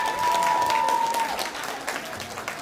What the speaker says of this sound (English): Can we have another round of applause for that wonderful performance by Sadhanaa?